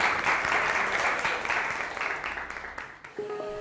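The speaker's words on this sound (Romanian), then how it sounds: "Hai, aplaudați-vă unii pe ceilalți!" Audience of teachers at an education event in Romania applauding one another, a dense, steady wash of clapping that thins out near the end as a voice begins speaking.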